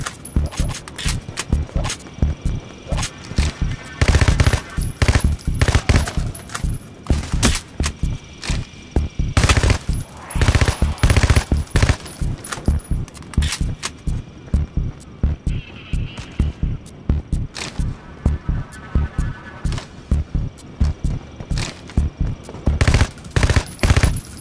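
A Mac 11 / Tech 9 submachine gun fires in the video game Payday: The Heist, with loud, close, rapid bursts of shots repeating steadily throughout, separated by short gaps.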